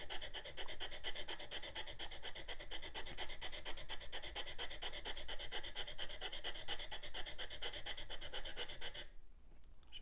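A felt-pen-marked part is rubbed backwards and forwards with water, giving a close, steady rasping scrape in quick, even strokes that runs continuously for about nine seconds before stopping abruptly.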